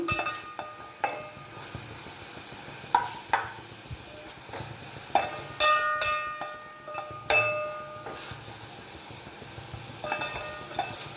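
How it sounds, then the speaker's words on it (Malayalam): Drumstick flowers stirred in a pan for a Kerala thoran, a faint sizzle beneath irregular clinks and scrapes of a spoon against the pan, several sharper knocks spaced a second or two apart. "നമുക്കിനി ഒന്ന് ഇളക്കി നോക്കാം"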